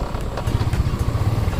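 A motorcycle engine rumbles low and steady nearby on a road trip to Deojhar Waterfall in Odisha, running alone with a faint clattering texture.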